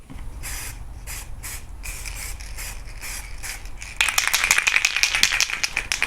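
A can of chrome silver spray paint rattles in short shaking bursts, then a louder continuous hiss of spraying takes over, close up, in a garage.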